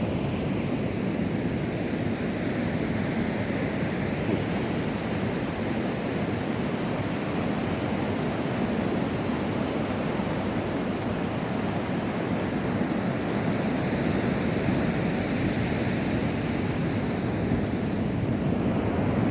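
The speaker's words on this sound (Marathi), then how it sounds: "समुद्राला उधाण आलं आहे मस्तपैकी लाटा आहेत लाटांचा आवाज आहे" Sea waves surging and breaking on a Konkan beach at Bhogwe during a high tide in early morning, a steady, loud, continuous roar of surf with no voices.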